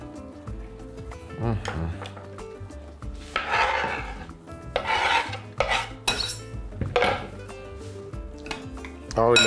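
A knife finely chops fresh vegetables on a board for a pork shawarma sauce, in several short bursts of quick, crisp cuts under a speaking voice.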